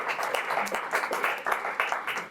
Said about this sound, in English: So please give applaud to Teresa, and thank you for being here.